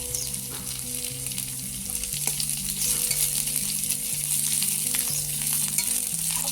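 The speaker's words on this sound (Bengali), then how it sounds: "এগুলোকে আমি ভালোভাবে ভেজে নেবো।" Carrots, mixed vegetables and chopped green chilli fry in hot oil for vegetable chops, giving a steady, close, unbroken sizzle with soft bubbling that holds throughout.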